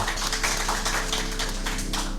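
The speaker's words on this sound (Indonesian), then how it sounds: "Tepuk tangan Bapak Ibu semuanya, tepuk tangan." An audience clapping together at a seminar, a steady, dense patter of many hands that fills the whole short moment without pause.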